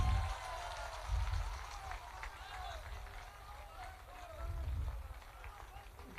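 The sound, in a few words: audience applause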